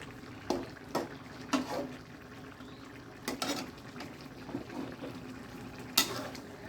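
Meat and spices stir-fried in a pan on a gas stove, with a quiet sizzle beneath irregular scrapes and clinks of a utensil against the pan, about a half dozen distinct strokes.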